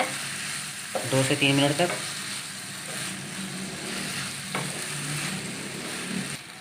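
Potatoes frying in a pan of oil for a Spanish omelette (tortilla de patata) give a steady soft sizzle, with a burst of spoon-stirring clatter early on and a short line of speech over it.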